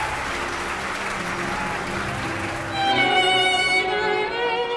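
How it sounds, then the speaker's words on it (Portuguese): An audience applauds at a classical music competition round before a 22-year-old violinist plays Saint-Saëns' Violin Concerto No. 3; steady clapping fills the hall, swelling louder near the end, with no talk over it. "Vamos aplaudir Wellington Rebouças"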